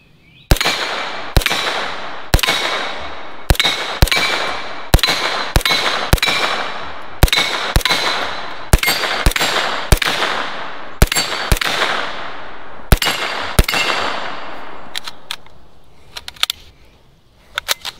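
Rifle shots fired offhand ring out against steel Texas Star target plates: about twenty loud, sharp cracks, each followed by a bright metallic clang that decays. They come in a fairly steady rhythm, then a few faint ticks trail off at the end.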